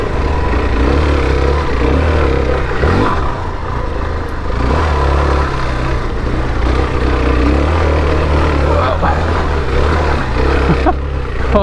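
Suzuki DR-Z4S dual-sport motorcycle climbing a gravelly, slippery hill, its engine droning and revving steadily close by with some clatter, loud and continuous throughout.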